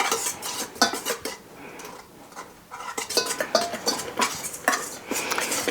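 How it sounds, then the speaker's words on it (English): Keto bread mix being stirred in a pan, with a utensil scraping the sides: repeated clinks and scrapes in an irregular rhythm, close and fairly loud, with a brief quieter pause midway and no talking. "I like taking it and stirring it again for the same reason, getting the powder and stuff off the sides of my pan."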